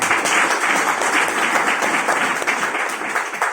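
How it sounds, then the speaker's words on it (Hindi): Loud, steady applause from an audience at an AWPL venue closing event in Bharatpur, a dense wash of clapping that holds for the whole stretch with no talk over it. "एक बार जोरदार तालियां जरूर दीजिए"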